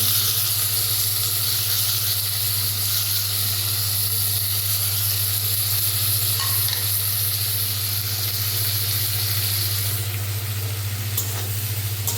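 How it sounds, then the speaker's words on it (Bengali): Bitter gourd and dried baila fish sizzle in a pan with a steady close hiss and a low hum underneath, plus a few faint clinks near the end and no talk. "এটা ততক্ষণে ভাজা হতে থাক।"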